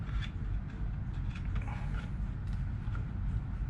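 Plastic parts of a T-70 X-Wing model being pressed and fitted together, close creaking and scraping with small clicks over a low rumbling background, no talk.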